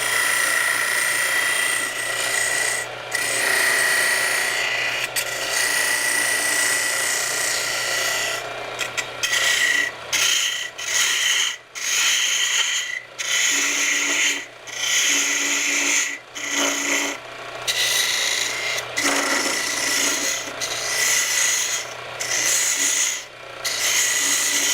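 Skew chisel cutting wood on a lathe while sleeving an Echo insert: a steady, loud scraping hiss runs continuously, broken by short gaps as the tool lifts off, with no talking.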